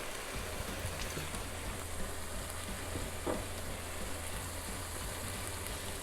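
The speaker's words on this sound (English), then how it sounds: "going in about a cup of a dry red wine using Chardonnay" Dry red Cabernet wine poured into a pan of sizzling lamb ragu, giving a steady, close frying hiss with a brief splashy pop midway, no voices.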